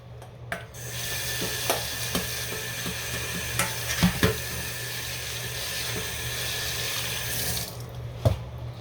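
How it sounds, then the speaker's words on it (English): Rice is washed by hand in a bowl of water, a steady wet swishing with small splashy knocks scattered through it and no one talking. "I stir it with my hands to get rid of all the juice"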